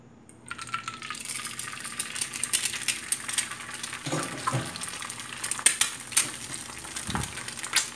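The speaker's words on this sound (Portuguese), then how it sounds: "Agora a gente vai estar fritando aqui, ó," Steady crackling sizzle of an egg frying in a pan, with a few clinks and scrapes of a utensil partway through.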